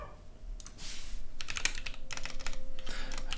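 Fast, uneven clatter of keys on a computer keyboard, close and fairly loud, with bursts of rapid strokes and brief pauses, no talking.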